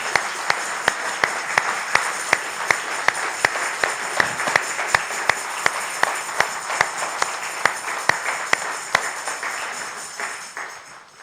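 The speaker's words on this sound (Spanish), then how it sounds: "Vamos a darle un aplauso al Señor" A church congregation at a Christian conference claps in a steady rhythmic beat, sharp regular strikes over a wash of applause, keeping time for about nine seconds before fading down.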